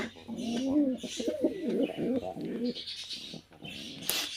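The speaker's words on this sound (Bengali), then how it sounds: "এই যে আমাদের সেই পোস্টার কবুতরটা" A pouter pigeon coos in soft, rolling phrases close by, with a person talking over it.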